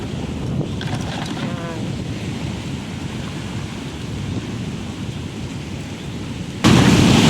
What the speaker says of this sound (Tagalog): Ito po kami sa tabing dagat.